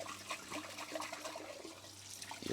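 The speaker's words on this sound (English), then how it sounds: "I'm going to rinse it again." Water sloshing and running inside a glass coffee pot as it is rinsed at a sink, a steady close splashing wash lasting throughout.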